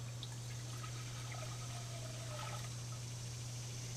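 Two cups of apple cider vinegar pour steadily for a sweet cucumber and onion solution, a soft continuous trickle lasting several seconds over a constant low electrical hum, with no voices.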